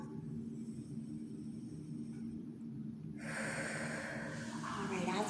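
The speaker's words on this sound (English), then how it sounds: "Let's take one more big breath in." A slow, deep breath is drawn in through the nose during a restorative yoga session, close and soft over a low room hum, followed by a fuller airy exhale.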